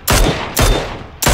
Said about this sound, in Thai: ยิงเก็บเสียงอยู่ทางซ้ายอ่ะ